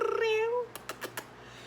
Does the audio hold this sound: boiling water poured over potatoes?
no